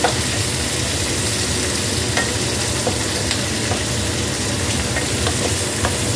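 Onions sizzle steadily in hot oil, a dense crackling hiss with occasional sharper pops, loud and close, no voices.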